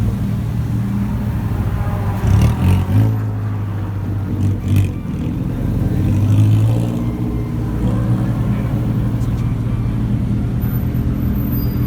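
A race car engine at the Tocancipá racetrack idles and revs loud and near, rising in a couple of throttle blips over a steady rumbling drone.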